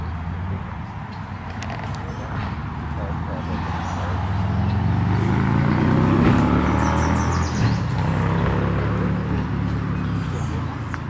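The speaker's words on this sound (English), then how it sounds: "I can hear the cars." Cars pass on a nearby road in a busy area by a riverside flower garden, a steady low traffic rumble that swells midway, with a person talking over it.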